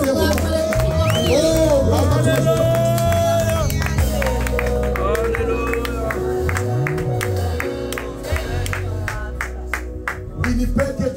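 A church congregation cheers and claps loudly in a dense, sustained crowd roar, with hubbub and musical tones underneath that thin out toward the end.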